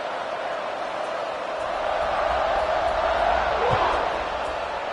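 Stadium crowd roar in a college football video game, a steady wash of cheering fans that swells slightly mid-way, with a brief thud near the end.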